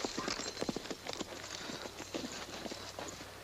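Horse hooves clip-clop in a quick, steady rhythm as a rider gallops off on the open Western range, close and distinct over a low background rumble.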